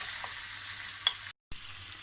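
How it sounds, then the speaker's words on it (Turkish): Steady, close sizzling of diced chicken breast frying in a pan, with a faint clink and a brief silent cut partway through. "küp küp doğradım tavuk göğsünü tavanda kızartıyorum"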